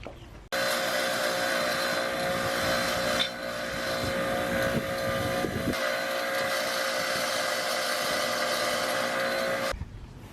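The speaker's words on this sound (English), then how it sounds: "I'm gonna pull out my wire wheel that I put on the bench grinder, and I'm gonna clean up that hardware right now" A bench grinder spinning a wire wheel cleans rusted hardware from a sway bar job with a loud, steady whir that starts abruptly, holds for about nine seconds with slight changes in load, then cuts off. No speech.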